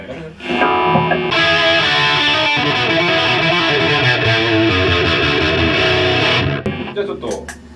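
Electric guitar plays through distortion on a vacuum tube amplifier, a loud, sustained, saturated chord tone ringing continuously before cutting off near the end.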